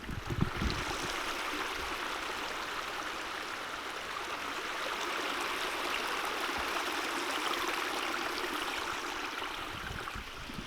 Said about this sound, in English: It's nothing quite like the sound of running water.